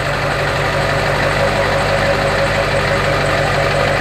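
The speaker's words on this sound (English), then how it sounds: "cold start." A Duramax diesel truck engine idles steadily just after a cold start on a cool day, a loud, close, even rumble with a faint knocking clatter and no voices.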